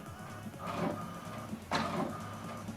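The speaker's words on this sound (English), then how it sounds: "So what it's doing now is printing the alignment." An HP printer printing an alignment page hums and whirs mechanically, with two sharp sweeping swishes of the print head moving across, close and steady.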